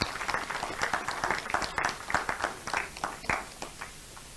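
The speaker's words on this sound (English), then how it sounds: "Please put your hands together." Audience applauding at a geoscientists' institution executives' induction ceremony, steady moderate clapping from a crowd, fairly close, continuing throughout.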